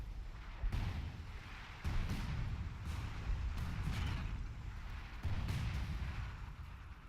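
Mortar rounds exploding in a WWII strategy video game set around Tilly-sur-Seulles in the Battle for Caen, several heavy booming blasts spaced a second or two apart over a rumbling battlefield, fairly distant and moderately quiet.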